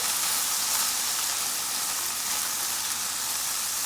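Grated garlic and green peas fry in a pan while being mixed, a dense, steady, close sizzle that hisses evenly throughout with no voices.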